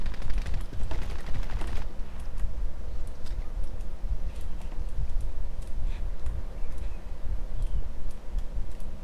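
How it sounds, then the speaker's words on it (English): Steady gunfire from the battle-royale video game Call of Duty: Warzone crackles throughout, with dense overlapping shots and scattered sharp cracks over a constant noisy background. "Someone shooting."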